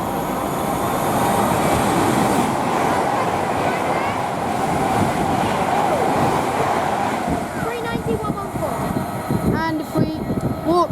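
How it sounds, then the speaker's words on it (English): An Avanti West Coast train from Glasgow runs past at Rugby on the West Coast Main Line. The rumble is steady and loud for most of the clip and thins toward the end. Faint voices sound underneath. "we have an Avanti West Coast service from Glasgow"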